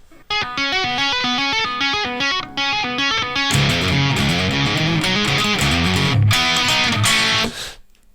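Fast tapped guitar notes give way to a heavy, distorted main riff, loud and dense, ending abruptly with a short fade.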